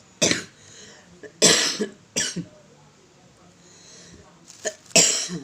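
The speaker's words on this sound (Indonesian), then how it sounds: "Kan batuk." A sick woman coughs in several sharp, close bursts, some doubled, separated by quiet pauses, with a final pair of coughs near the end.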